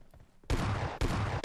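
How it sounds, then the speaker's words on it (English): Gunfire in PUBG Mobile: a loud burst of rapid shots starts after a quiet lead-in, then two more bursts follow in quick succession, with no talk over them. "someone is shooting at us"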